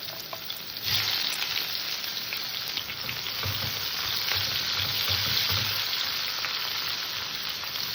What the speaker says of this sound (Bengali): পেঁয়াজটাকে আমি হালকা করে একটু ভেজে নেব